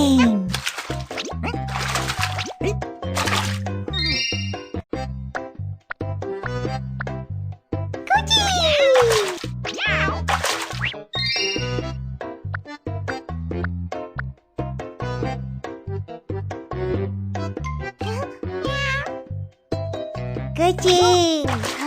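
Cat meows recur among busy, layered sounds in a children's cartoon song about zoo animals, with a voice and other talk running throughout the clip.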